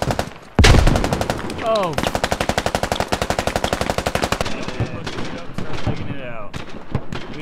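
Video game gunfire in a squad shooter, with enemy snipers firing on the players: a loud, sustained burst of rapid automatic shots, then scattered fire under excited voices and a shouted exclamation.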